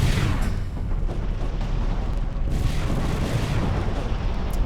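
Spaceship weapons fire in the space strategy game Sword of the Stars, a dense, continuous barrage of rumbling booms and crackling blasts, loud and close from start to finish.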